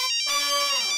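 A phone ringtone plays a bright electronic melody, loud and clear, lasting about a second with no voices.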